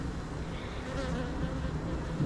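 A dense, close buzzing of many honey bees in a hive, a continuous low hum with no talking.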